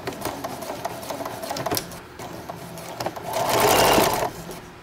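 Close, loud sewing machine stitching a placemat into a tote bag, running in continuous rapid bursts that swell into a denser, louder run near the end; nobody talks.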